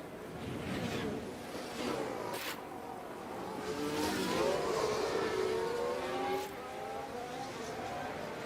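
Simulated Formula 1 racing engine in F1 Manager 24 at Las Vegas, a faint rising and falling whine with gear-change steps, heard under quiet background and brief commentary.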